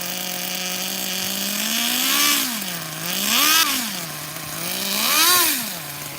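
Nitro RC car engine, a Kyosho or old-school HPI RS4 MT, buzzing close and loud at idle with three rising-and-falling revs, no talking.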